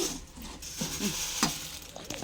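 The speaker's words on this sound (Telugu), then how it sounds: "మరమరాలు అయితే పోసేసుకోండి. పోసుకుని తిప్పేయండి, వేడిగా ఉన్నప్పుడే తిప్పేసుకోవాలి." Puffed rice being stirred into hot syrup in a pan with the stove off, giving a close scraping and rustling with a light sizzle and a few sharper knocks.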